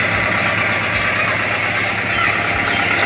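A steady close idle from a 2022 Kubota M6040 tractor, with a one-owner diesel engine producing a constant low throb and broad mechanical hum.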